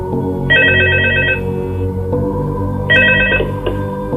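A telephone rings in Five Nights at Freddy's 2, two loud bursts of an electronic bell tone over a steady, droning game background.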